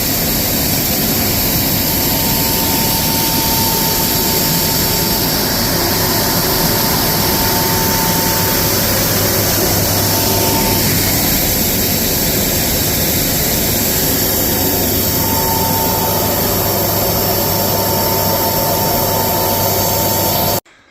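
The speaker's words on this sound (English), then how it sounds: "at least we got the grain vac here to clean up the mess, right?" A Brandt 7500 HP grain vac runs loud and steady while moving oats, a constant close roar with a faint tone, cutting off abruptly at the end.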